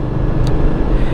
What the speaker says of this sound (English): I've got a car right up behind me